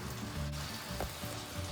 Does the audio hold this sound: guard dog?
no